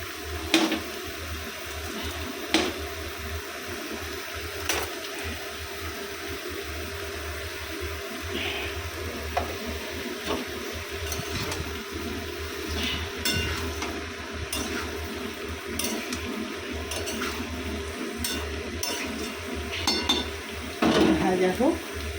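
Chopped tomato frying and being stirred in a pan for a paneer curry, a steady low sizzle with scattered clinks and scrapes of the spoon against the pan, fairly close and without talk.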